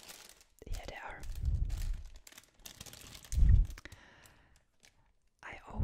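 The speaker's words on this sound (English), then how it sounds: "I always keep my brushes in this really not so handy plastic bag." Plastic bag holding paint brushes crinkling and rustling close up in a quiet setting, in two soft bursts separated by a pause, with faint whispering between them.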